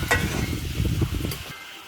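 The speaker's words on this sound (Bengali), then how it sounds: "দিয়ে ভালো মতো নেড়ে চেড়ে সুন্দর করে কষিয়ে নিতে হবে।" Ground turmeric, chili, coriander and cumin frying for a prawn malai curry, a soft sizzle with a few scraping stir strokes that fades near the end.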